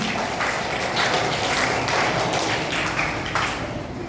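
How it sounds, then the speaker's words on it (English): Children in a school classroom clapping their hands together, a dense continuous patter of many close claps lasting several seconds and tapering slightly toward the end. "Very good, very good. Give a clap, children."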